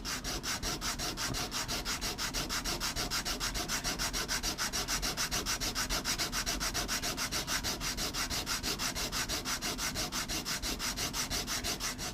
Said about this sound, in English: just sanding the backside